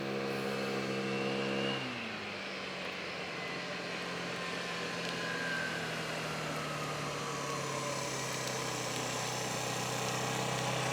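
An old, abandoned moped engine is held at full throttle. The close, buzzing drone drops in pitch after about two seconds, then stays level and steady without any talk.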